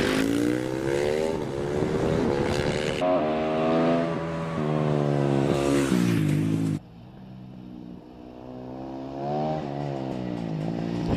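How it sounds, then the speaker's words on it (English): A Husqvarna sprint motorcycle races up the Prescott hill climb course, its loud engine revving up and down through several gear changes as it passes close by, then fades into the distance, with no talking. "Here's the Husqvarna of Simon Hocking, famous Swedish manufacturer, particularly of sprint and motocross bikes"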